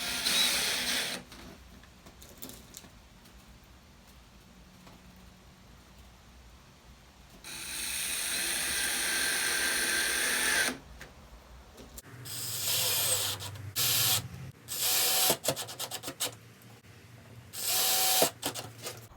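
Power driver running screws into hinges on a small wooden storage cabinet, with several whirring bursts of varying length separated by quiet pauses and handling noise, close and loud.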